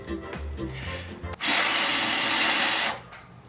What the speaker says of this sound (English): Up next, we've got the wind noise test.